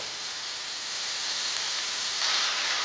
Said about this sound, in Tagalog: nagigisa na po ang ating bawang, sibuyas at ang ating luya